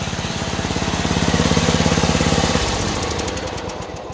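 A cheap lawn mower engine runs loud and close just after a cold start, a steady rapid chugging pulse that shifts and smooths partway through, no talking.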